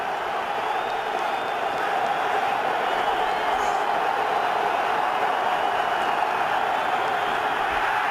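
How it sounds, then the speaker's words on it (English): Dense, steady roar of a packed football stadium crowd at a Redskins versus Giants game, continuous and loud, with a voice audible over it. "he's got the whole crowd going crazy"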